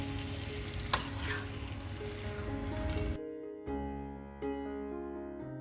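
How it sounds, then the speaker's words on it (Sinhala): Loud sizzling of chopped garlic and tomato frying in oil for a few seconds, then the sizzle cuts out, leaving a quieter hum. "අපි කපාගත්ත සුදු ලුණු, තක්කාලි ඒ හැමදේම දාලා චුට්ටක් තෙලෙන් බැඳෙන්න තියෙනවා."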